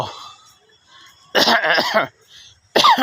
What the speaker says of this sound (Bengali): কাশি দিলে মাথাটা এখনও ব্যথা করে